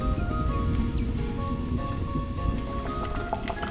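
Pot of Mangalore-style mackerel fish curry simmering on a stove, giving a steady dense bubbling and popping that carries on evenly throughout.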